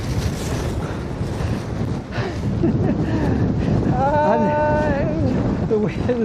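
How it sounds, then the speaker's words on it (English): Storm Darragh wind gusting hard at the seafront in Skegness, a steady loud roar buffeting the microphone, with someone talking over it and a brief whining tone near the end. "the wind's getting back up again."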